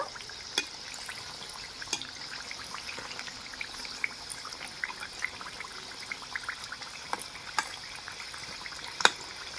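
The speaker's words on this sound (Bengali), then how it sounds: "তো হালকা আঁচে এগুলোকে আমি ভেজে নেব।" Coconut-filled puli pitha sizzle steadily in oil over low heat, a soft continuous crackle dotted with small sharp pops, close and moderately quiet with no talking.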